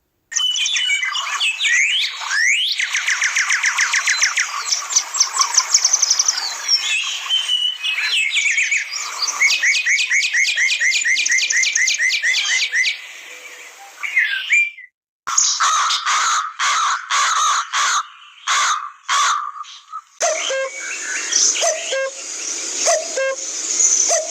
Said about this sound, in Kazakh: Құстардың дауысын тыңда.